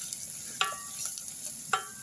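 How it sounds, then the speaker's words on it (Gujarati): Quiet frying of gram flour in oil, a low steady hiss with two sharp scraping clicks of a spoon against the pan. "તો એને આપણે તેલમાં શેકી લેશું"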